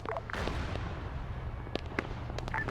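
Machine gun fire in the video game Arma 3 comes as sharp bursts of shots over a dense, rumbling battlefield bed of distant fire, with no voices.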